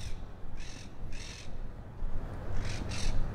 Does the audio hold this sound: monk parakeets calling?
yes